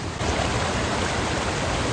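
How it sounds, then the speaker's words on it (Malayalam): River water flowing at Aruvikkuthu in Pallikkathodu, Kottayam, a dense steady rushing wash, loud and close, continuing evenly after a brief dip at the start. "പുഴ ഒഴുകി വരുന്നുണ്ട്."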